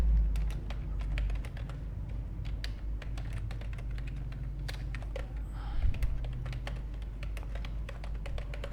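Someone types text on a computer keyboard while working in CorelDRAW, with a steady run of close, crisp keystrokes and a few brief pauses throughout.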